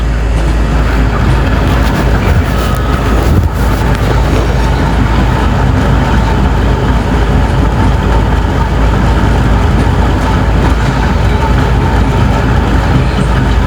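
A video game train runs at full speed along the track, a steady loud rumble and rattling roar that holds unbroken from start to finish.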